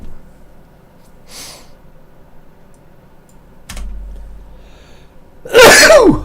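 A single loud, sharp sneeze bursts out at the end after quiet moments, preceded by a faint breath and a brief click.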